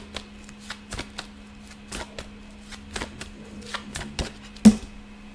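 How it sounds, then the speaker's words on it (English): A deck of tarot cards being shuffled up close, a steady run of papery riffles and soft slaps with one sharper snap near the end, no voices. "while I was shuffling"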